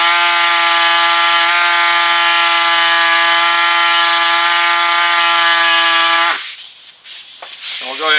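A high-speed saw cuts close to a plastic housing, a loud, steady, high-pitched whine that holds for about six seconds, then cuts off abruptly, leaving quieter scattered handling noise.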